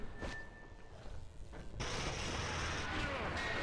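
An automated turret firing in Aliens vs Predator, rapid sustained bursts that start sparser and then become a dense, loud continuous barrage.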